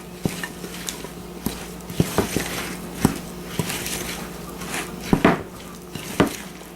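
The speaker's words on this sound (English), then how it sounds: "now you want to stir in your 3 cups, which is about 3 medium apples, peeled and chopped up coarsely" Spoon stirring coarsely chopped peeled apples into a stiff apple cake batter in a bowl, with irregular clinks and knocks against the dish and a soft thick mixing scrape, no talk.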